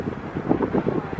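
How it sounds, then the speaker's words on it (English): Brief rumbling wind gusts buffet the microphone, a low steady roar with no other clear sounds. "Well, it's just a bit windy."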